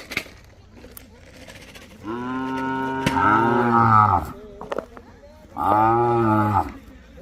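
Two loud, deep bull moos close by, each drawn out for a second or more, with quieter background noise between them.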